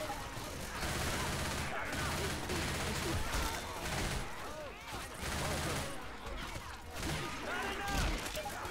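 Gunfire in the zombie shooter Left 4 Dead 2, with dense, continuous bursts of shots and crashing impacts over several seconds, layered with game noise and voices talking.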